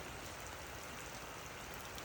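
Light rain falls steadily on a rural Thai garden farm with banana plants and a duck pen, a faint, even hiss with no voices.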